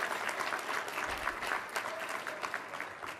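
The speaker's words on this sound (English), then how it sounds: "a big round of applause for that and the work of everyone in this room" A room full of people at an awards event applauds, steady close clapping that carries on evenly from start to finish and stands alone with no talk over it.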